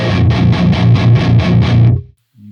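Distorted metal guitar through the Hellbeast amp sim with the boost pedal and lows pushed, chugging in a rapid pulsing rhythm of about eight heavy palm-muted hits, loud and thick, then cutting off abruptly before a brief low note.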